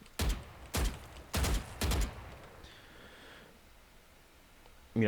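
Four loud rifle shots from a video game crack out in quick, evenly spaced succession, close and punchy, followed by a quieter stretch and a final burst.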